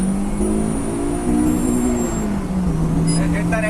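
A Honda engine with a Hondata K-Pro tune revs hard toward redline in second gear, a loud rising drone from inside the car that then eases back, with a faint voice in the background.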